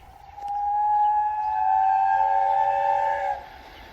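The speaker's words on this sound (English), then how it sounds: "presently he heard a whistle." A train whistle sounds one long, steady tonal blast of about three seconds, loud and clear against a quiet background before fading out.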